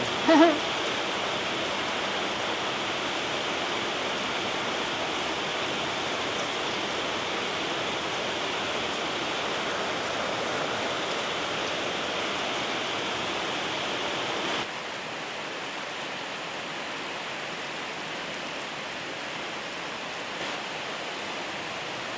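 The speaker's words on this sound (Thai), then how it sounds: "ฝนยังไม่หยุดตกเลยนะครับ น่าจะตกตลอดทั้งคืนครับ" Heavy rain falling at night during the rainy season in northern Thailand, a dense steady hiss that runs unbroken, dropping slightly in level partway through, with no talk.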